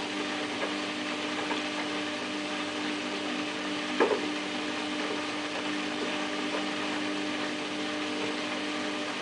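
A Samsung WF8804RPA washing machine on a cottons 95 easy-iron cycle slowly turns its drum to balance the load before the final spin. It makes a steady, even mechanical hum with a single brief knock partway through.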